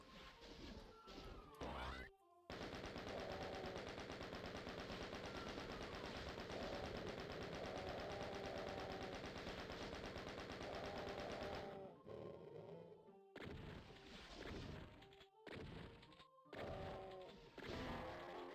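Enemy gunfire in the first-person shooter DOOM, Episodes 2 and 3, with dense rapid bursts and sharp shots running for several seconds, then broken into separate blasts and pauses.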